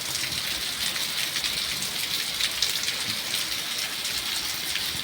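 Steady rain falls outdoors, a dense continuous hiss of drops hitting the ground and surfaces, even in level throughout with no voices.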